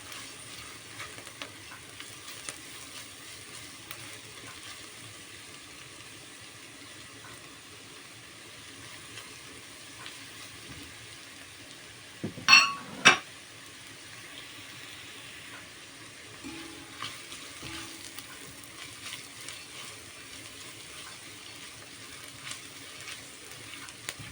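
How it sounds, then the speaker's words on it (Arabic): Grated carrots are stirred and fried in a pot with onion and vermicelli, a quiet, steady sizzle broken midway by a brief clatter of the spoon against the pot. "الجزر مبشور، وهنقلبه كده لحد ما الجزر يدبل هو كمان."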